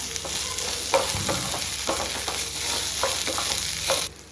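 Onions sautéing in a pan for onion chutney, a dense continuous sizzle with repeated scraping strokes of a spoon stirring through them, close and steady throughout before cutting off abruptly at the end.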